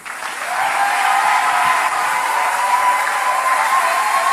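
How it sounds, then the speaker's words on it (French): A church congregation applauds and cheers, a steady, dense wash of clapping and crowd noise that swells quickly and holds loud and even throughout. "C'est ici que tu dois acclamer."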